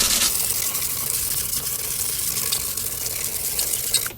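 Water sprayed over a sanded Civic Si wheel, making a steady, fairly loud hiss that holds evenly from start to finish.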